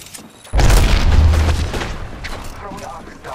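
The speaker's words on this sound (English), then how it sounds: "Throwing frag." A frag grenade explodes in Apex Legends with a sudden loud, deep boom that rumbles on for a couple of seconds before tailing off under faint game noise.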